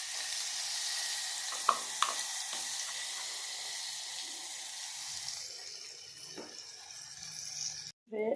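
Coriander pickle stirred into hot oil in a pan, giving a steady broadband sizzle with a few sharp spoon clinks early on and a brief dropout near the end, no voices.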